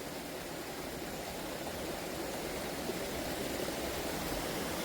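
A stream flows steadily in the Konkan countryside during heavy monsoon rain, a faint, even rushing wash with no breaks and no voices.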